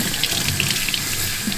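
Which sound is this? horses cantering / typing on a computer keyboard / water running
water running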